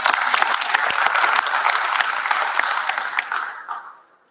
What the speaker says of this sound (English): So round of applause to the student talks.